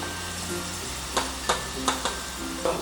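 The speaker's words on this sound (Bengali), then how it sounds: "প্রথমে 2 মিনিটের জন্য হাই ফ্লেমে এটাকে ভালো করে ভেজে নেব।" Okra pieces frying in hot oil on a high flame, a soft steady sizzle with several sharp clacks of a utensil stirring in the pan.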